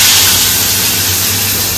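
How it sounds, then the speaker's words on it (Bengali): Rohu fish fries in a wok with a loud, dense, continuous sizzle that stays close and steady throughout. "একদিকে কড়াইতে রুই মাছ ভাজছে"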